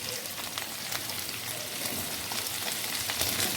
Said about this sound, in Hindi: इनको हम अच्छे से फ्राई करेंगे।